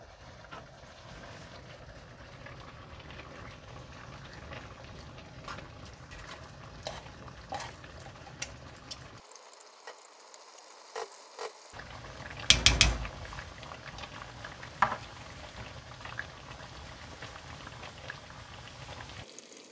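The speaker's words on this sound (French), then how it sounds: "On va laisser notre sauce mijoter encore pendant 15 à 20 minutes avec notre couvercle protecteur." Homemade tomato sauce simmers in a covered pot over low heat. A soft, steady bubbling runs throughout, briefly cut out partway, with a few sharper clicks and taps.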